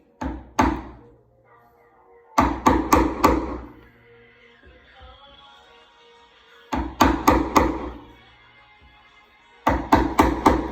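Hammer striking a chisel to cut a hinge mortise in a wooden door, loud sharp blows in quick clusters of three to five with quieter scraping pauses in between.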